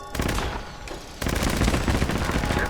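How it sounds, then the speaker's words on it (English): Sustained rapid automatic gunfire from a Gauss Gatling gun in a post-apocalyptic video game, a loud continuous roar of shots with a brief dip before the barrage resumes at full intensity. "Gauss Gatling."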